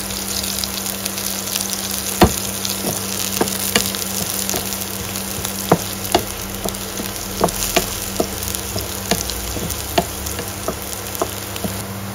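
Greens with whole dried red chillies frying in oil, a steady close sizzle and crackle with repeated sharp pops and stirring clicks throughout, no talk.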